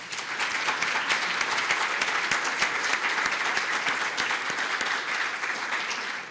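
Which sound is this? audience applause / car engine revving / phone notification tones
audience applause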